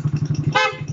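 A PIAA dual horn fitted to a Suzuki Raider 150 motorcycle gives one short, loud two-tone honk up close, rising over a steady idling engine that pulses rhythmically throughout.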